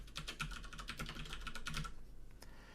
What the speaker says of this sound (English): now we're just going to type in hello world.